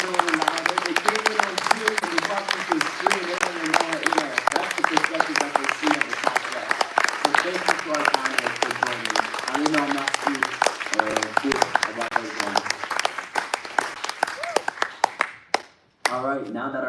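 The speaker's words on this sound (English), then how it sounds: "Can we give a round of applause to our panel?" An audience at a live Youth For Justice fundraiser applauds its panel, dense steady clapping filling the room for about fifteen seconds while a voice keeps talking over it, before the noise cuts off near the end.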